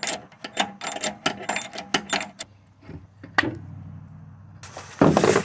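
A ratchet strap mechanism on a Volkswagen front strut job clicks rapidly through a run of sharp ratcheting strokes, then gives a few louder clacks and a rattling handling noise, close up with no talking.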